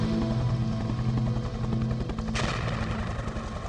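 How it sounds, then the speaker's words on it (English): A helicopter in the video game Broken Sword 2: The Smoking Mirror, a loud continuous rotor thumping with a dense rumble, joined near the middle by a sharp burst like gunfire. "A helicopter comes."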